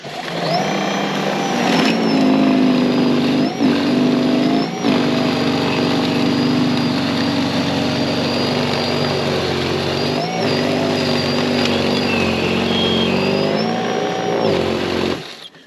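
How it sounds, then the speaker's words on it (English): Greenworks 40V battery-powered snow blower clearing loose, uncompacted snow, a loud, close, steady electric whine holding a constant pitch for the whole stretch, with slight dips as the load shifts. "let's see if the uncompacted, you know, where I didn't drive on it, if this snowblower can do it."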